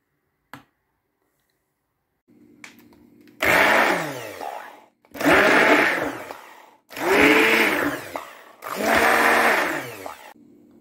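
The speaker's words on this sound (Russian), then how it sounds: "Полученную мякоть печеных яблок буду разбивать погружным блендером до состояния пюре." An immersion blender runs in four loud bursts separated by short pauses, its motor whirring and straining as it purees soft baked apples.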